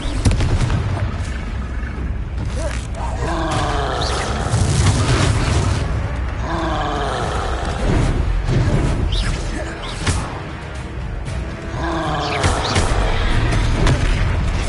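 Confringo fire spell explosions from Hogwarts Legacy gameplay, with loud repeated booming blasts and crackling bursts that continue throughout amid game music and effects.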